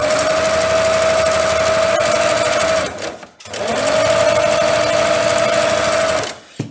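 A Singer 354 Starlet sewing machine runs close and loud in two steady stretches with a steady whirring hum, pausing briefly between them.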